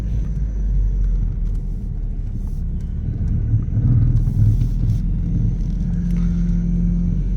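A 1998 Dodge Neon R/T with a 5-speed manual being driven around a parking lot, its engine a steady low rumble heard from inside the car, fairly loud and continuous with a slight swell midway.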